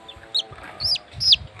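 A chicken gives a few short, sharp clucks and squawks close by, three quick calls over faint background noise.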